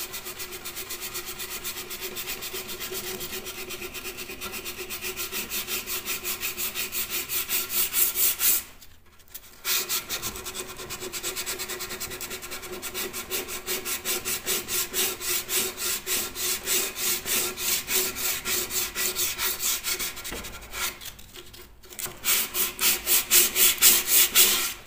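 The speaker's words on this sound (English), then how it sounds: "And then generally we'll give the whole lot of sand over." Wooden folding loft stairs are sanded by hand in long, rhythmic rasping strokes, loud and close, with two short pauses between runs and no talking.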